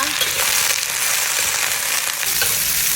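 Ginger, garlic, onion and bitter gourd frying in a pan, a loud, close, continuous sizzle with stirring.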